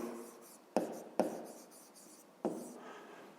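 Pen writing on paper during a fifth-grade maths exercise, quiet and close, with three sharp stroke onsets that each trail off into soft scratching.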